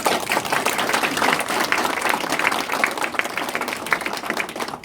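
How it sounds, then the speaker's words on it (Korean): A crowd at a political campaign office opening in Bucheon claps loudly and continuously, a thick, even wash of many hands close by, with no speech over it. "박수 한번 주십시오"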